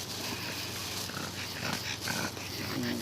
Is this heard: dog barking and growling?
yes